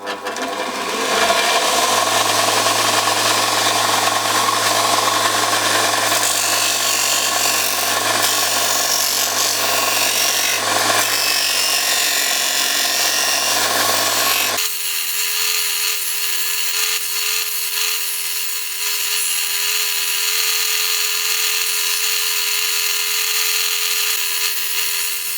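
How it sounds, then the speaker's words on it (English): A bench grinder-belt sander combo with a very coarse wheel grinds through thin steel, giving a loud, continuous harsh rasp with a steady motor drone underneath, shifting to a brighter, thinner whine about halfway through. "We've got a really coarse wheel on a bench grinder. It's a belt sander and grinder in one."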